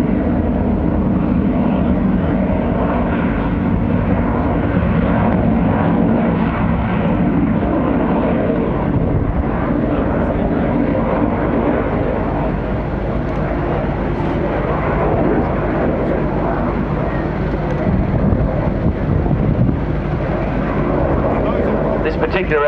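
An Avro Vulcan jet bomber flies a display at the Shoreham Airshow, its deep, sustained engine roar loud and steady across the whole stretch, with a commentator speaking over it.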